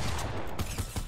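Gunfire from a Fortnite match, with loud low booming shots and dense noisy bursts throughout, a sharper crack standing out near the middle, all without voices.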